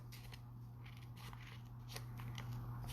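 Scissors cutting a design out of a sheet of iron-on vinyl, a series of soft snipping and crinkling sounds close up over a steady low electrical hum.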